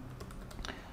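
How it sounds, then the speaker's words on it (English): Soft, rapid keystrokes on a computer keyboard, quiet and steady clicking close by with no voices. "Why am I typing something wrong?"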